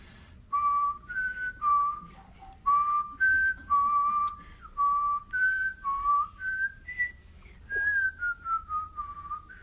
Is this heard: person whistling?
yes